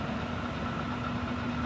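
An Induma universal milling machine spindle runs at 960 RPM with a dense, steady mechanical hum and a constant low tone, loud and close with no pauses.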